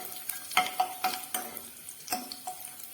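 Potato is stirred in a pan with fried dried red chilies, giving a soft steady sizzle with repeated scraping knocks of a utensil against the pan, close and moderately quiet.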